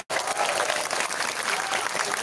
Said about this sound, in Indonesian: Ansor istimewa, tepuk tangan.